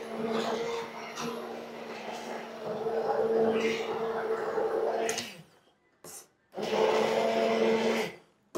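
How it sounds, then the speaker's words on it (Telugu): A kitchen mixer grinder whirs steadily while blending raw mango, running in a loud continuous burst, stopping briefly, then starting again for a second run. "దీంతో మనం మిక్సర్ చేసేసుకోవచ్చు"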